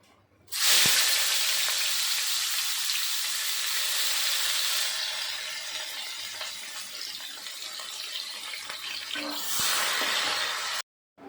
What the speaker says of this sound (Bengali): এবার আমি পেঁয়াজটা লাল করে ভেজে উঠাবো